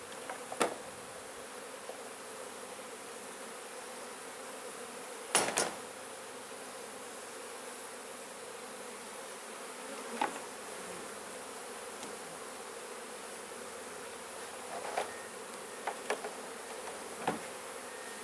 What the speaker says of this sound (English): shake off the bees in their hive